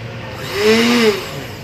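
Electric blender motor starting up after its white button is pressed, a brief rising whir that swells and settles into a steady hum, close and fairly loud.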